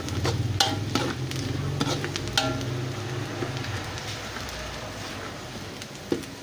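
Garlic browning in a hot pan for pork sisig, a steady soft sizzle with occasional clinks and stirring scrapes, close and fairly quiet.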